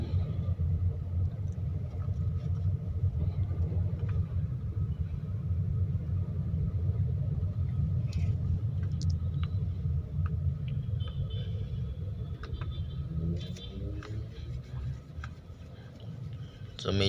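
Light road traffic in a town at night, a continuous low rumble of car engines and tyres nearby with occasional small clicks and knocks, easing off slightly toward the end.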